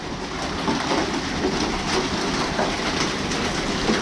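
Hail falls in a bad storm outbreak, a dense, steady rattling patter of stones striking surfaces all around, loud and continuous with no voices.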